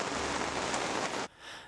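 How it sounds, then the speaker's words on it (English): Hail falling at a mountain base camp in Arizona, a dense, loud, steady patter of pellets that cuts off abruptly, leaving a fainter hiss. "it starts hailing"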